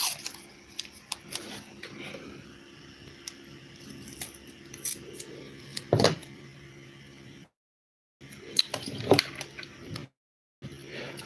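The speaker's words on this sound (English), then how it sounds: "So we're going to tape it up." Tape being pulled and wrapped around a negative battery wire connection, with short ripping and crinkling sounds close by, a few sharp peaks, and brief silent gaps.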